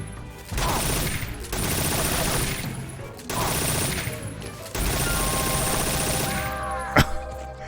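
Sustained bursts of automatic gunfire in the Metal Gear video game, loud and close, in several long volleys separated by brief pauses, ending with a single sharp shot.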